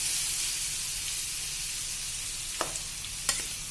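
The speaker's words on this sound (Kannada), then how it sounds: "the cluster bean mixture and coconut grinded one, add this to the kadai. Mix it well." A ground cluster bean and coconut mixture sizzles faintly in a hot kadai, with a soft steady frying hiss and a couple of brief scraping stirs near the end.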